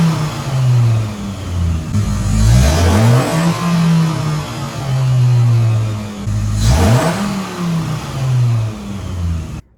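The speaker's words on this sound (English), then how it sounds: "there was an instance where I revved the engine" A Dodge Viper engine runs with a steady mid-pitched drone, then two sharp revs, one near two to three seconds and another around seven seconds, each rising and falling before settling back to a rough idle. No one talks over it.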